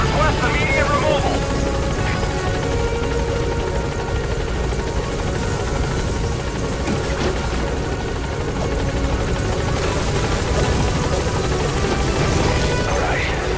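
The Pequod helicopter hovers over a landing zone in the Metal Gear Solid game, its rotor drone loud and steady for the whole stretch, with voices speaking over it.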